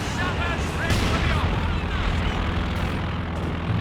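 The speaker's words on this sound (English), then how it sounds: "Recon plane up for Cojax." A recon plane drones loudly overhead in a Company of Heroes 2 battle, its propeller engine roaring continuously amid distant battlefield rumble, while a commentator talks over it.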